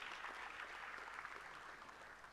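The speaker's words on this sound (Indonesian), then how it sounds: "Tepuk tangan bagi Tuhan Yesus Kristus." Church congregation applauding, a faint, steady patter of many hands clapping for a couple of seconds.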